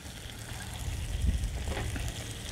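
Sweet chili garlic stir fry sauce sizzles in a cast iron pan, a steady close hiss and crackle of heating sauce running throughout with a few brief louder pops.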